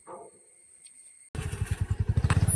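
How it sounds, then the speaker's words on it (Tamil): A motorcycle engine starts up abruptly after a quiet moment and runs with a loud, close, pulsing throb, its rhythmic beats quickening as if revving, on a rural off-road outing in rain. "பைக் எடுத்தாச்சு"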